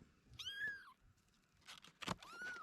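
A cat meows in a trailer after a storm. There are a few drawn-out, rising and falling meows with a scuffle or rustle between them, faint and fairly close, and no talking.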